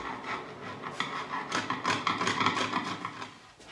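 Glue blobs being scraped off a wooden barn beam: a steady series of close, raspy scraping strokes in quick rhythm, fairly loud and heard alone.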